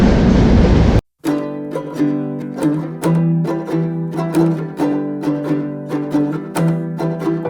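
Chilahati Express passenger train running on a foggy morning in Bangladesh, heard from inside a carriage: a steady rumble with regular clickety-clack wheel beats over rail joints, close and loud, after a brief cut of louder noise at the start.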